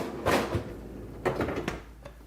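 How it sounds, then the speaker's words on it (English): A Samsung refrigerator door swings shut after a new door gasket is fitted, giving a soft thump followed by a second muffled knock and a faint rattle, close and moderately loud with no talking. "all you need to do is just close that door."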